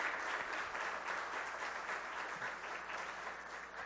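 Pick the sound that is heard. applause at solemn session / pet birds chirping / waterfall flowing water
applause at solemn session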